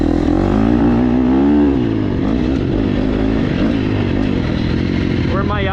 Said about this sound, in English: right off the bat I can tell this bike's more of a top end screamer kind of bike